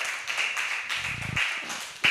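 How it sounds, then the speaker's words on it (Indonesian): A classroom of students claps for classmates after their presentation, a brief burst of hand claps with a soft chattering texture and a louder clap at the end. "Tepuk tangan sekali lagi, ayo."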